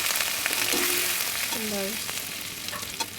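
Onions fry in oil for a tel koi fish curry with a constant, busy sizzle close by. A brief voice sounds faintly over the crackle.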